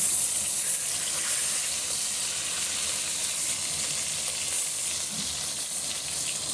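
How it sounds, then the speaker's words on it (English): Boneless short ribs browning in rendered fat in a pan, giving a steady, loud, dense sizzle that holds evenly throughout with no talking. "We're just going to brown them maybe on like 2 sides and they'll probably be done."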